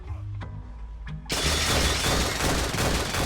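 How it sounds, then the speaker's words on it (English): Rapid gunfire bursts from the video game Lisa: The Hopeful erupt loudly after a quiet opening with a couple of soft clicks, then keep up a dense, continuous barrage to the end. "He shoots them with all of the guns."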